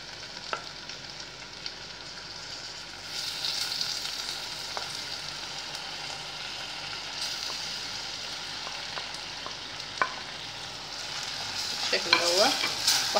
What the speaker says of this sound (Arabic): الفلفل والبصل اهم بدأوا يدبلوا كده هو مع بعض، هبدأ انزل عليهم بالكبدة بتاعتي.